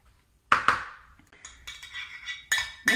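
Utensil clinks and scrapes against a bowl while stirring mango salsa with jalapenos and salt, a few sharp close taps followed by softer scraping and more clinks.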